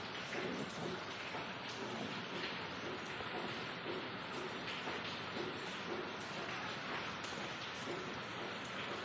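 Heavy morning rain pours steadily and without a break, a dense, even hiss of drops on surfaces, close and continuous with no voices.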